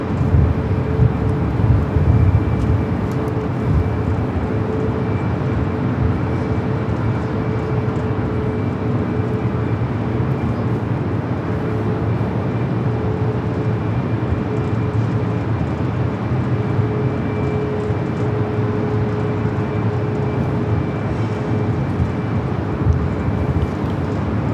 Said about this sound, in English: Flight heading to Denver, flight 4148, a 737 MAX 8.